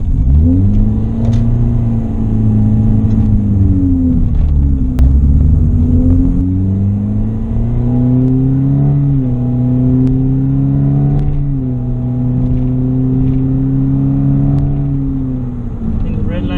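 A custom-built Scion iQ engine revving up to about 6,000 RPM: a loud, close engine note that climbs and falls in pitch in several sustained revs with a rumbling undertone, without speech.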